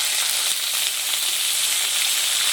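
Onion, garlic and ginger pastes frying in a pan for a fish curry, a loud, constant close-up sizzle heard alone, without talk.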